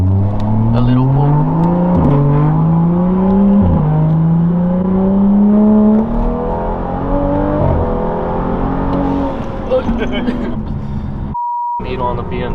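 Car engine pulling hard under acceleration with rising revs through several gear changes, loud and close from inside the cabin, with a brief beep near the end; people talk over it.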